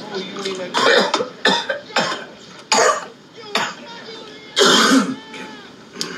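Repeated harsh coughing fits after smoking, close and loud, several bursts in quick succession with short pauses between them.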